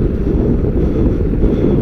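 Steady crosswind buffets the microphone while cycling, a constant loud low roar with no breaks.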